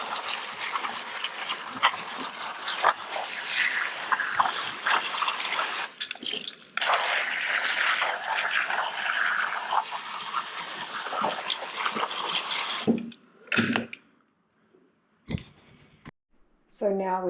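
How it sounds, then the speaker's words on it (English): Tap water from the kitchen pours and splashes onto seedling trays in a steady, fairly loud gush for several seconds, then cuts out, leaving near quiet with a few scattered clicks and knocks. "Now I'm just going to water these with the kitchen water"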